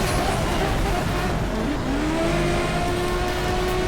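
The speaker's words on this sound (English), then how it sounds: "And man, what great vrooms this car has." A Ferrari FXX Evoluzione in Asphalt 8 revs hard with a high, F1-like engine note rising in pitch over loud continuous racing noise.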